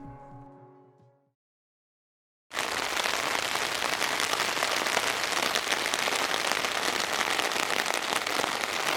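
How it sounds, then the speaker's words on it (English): Steady heavy rain pours down at an island campsite, a dense, loud, continuous hiss that starts abruptly after a brief stretch of talk and silence and carries on unbroken. "basically it's raining. It's been raining all night, so we didn't get any sleep."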